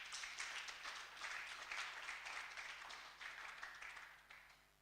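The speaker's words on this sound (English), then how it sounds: "Can we clap for them?" Audience clapping at a Hult Prize pitch competition, a steady, fairly faint patter of many hands that holds throughout and thins out toward the end, with no talking over it.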